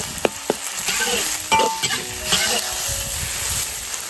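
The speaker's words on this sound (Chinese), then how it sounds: "肉炒断生，放入姜蒜、" Meat sizzling and being stirred in a wok with ginger, garlic and chili, the spatula scraping and clinking in irregular strokes over a steady close frying hiss.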